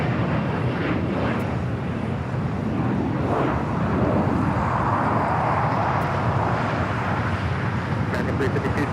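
An Embraer Legacy 500 business jet takes off at LAX, a loud broadband engine roar swelling and holding steady with wind buffeting, while voices talk over it.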